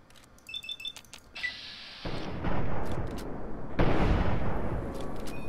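Fallout 3 gunfire: a blast at about two seconds, then a second loud blast near four seconds, each followed by a long rumbling decay, with a few faint clicks and bleeps before them.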